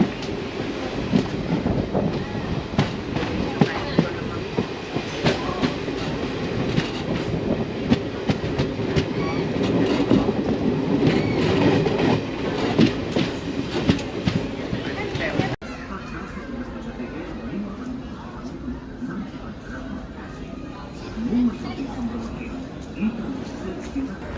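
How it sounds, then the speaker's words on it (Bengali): A train entering Udupi station on the Karnataka coast rumbles and clatters with steady rhythmic wheel noise and wind buffeting, then drops to a quieter hum in the final seconds. "ট্রেন উডুপিতে ঢুকছে"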